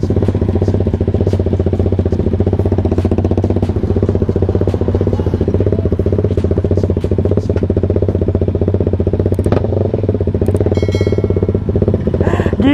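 Loud, raspy exhaust of a bored-up 280 cc Kawasaki Ninja SL two-stroke motorcycle on a night ride, droning steadily and close throughout with crackly popping on top.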